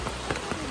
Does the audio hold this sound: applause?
no